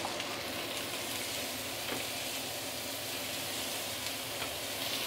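Roast pork and leeks frying in a pan with light soy sauce added, a steady, moderately loud hiss and crackle running evenly throughout with no talk.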